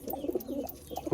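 A female Kagji pigeon coos in a few soft, throaty bursts spread across a moment, close by and fairly quiet, with no voices.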